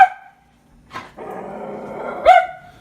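Dogs barking close by, a few sharp barks spaced out with a longer rough, drawn-out vocal sound between them, and no people talking.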